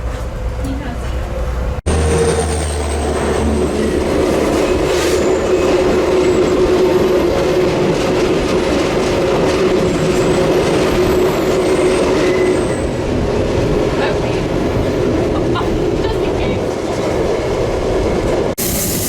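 A train rolling steadily along the track around a curve, its wheels rumbling and clattering on the rails with a faint sustained squeal, loud and continuous throughout. Alaska Railroad Denali Star passenger train between Fairbanks and Anchorage.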